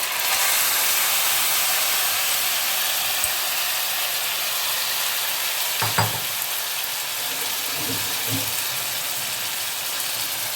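Marinated mutton sizzles loudly and steadily in hot oil, a constant frying hiss with a few soft stirring knocks partway through.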